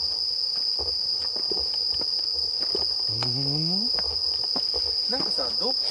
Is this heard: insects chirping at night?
yes